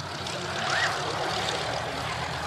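A PBY-5A Catalina flying boat passes at an air show display, its piston engines producing a steady, distant propeller drone with a faint broadband rush.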